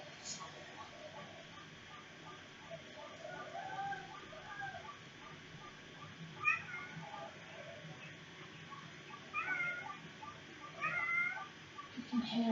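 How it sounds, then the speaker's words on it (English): A cat meows in scattered, moderately faint calls at a distance, rising now and then over a quiet room with low background hiss. "You can hear a cat."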